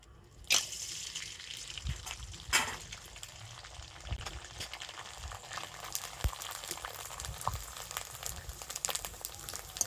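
Popcorn kernels dropped into hot oil in a home kitchen, a steady fizzing sizzle with scattered sharp crackles and pops, loudest near the start, continuing close and unbroken throughout.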